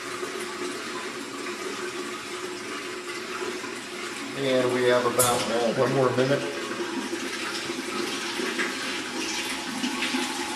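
Water from a tall glass washer's pure water holding tank, about 12 to 13 gallons, drains in a steady rushing gush that swells midway, while a voice talks over it.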